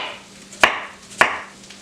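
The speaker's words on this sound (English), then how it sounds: "I'm also going to take a half an onion and slice that" Two sharp knife chops slice through half an onion on a board, evenly spaced, crisp and close, with no talking.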